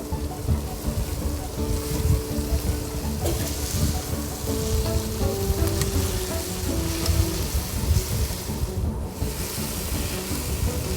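Steady crackling sizzle of tender tamarind leaves frying in a hot pan, loud and close, with occasional stirring scrapes.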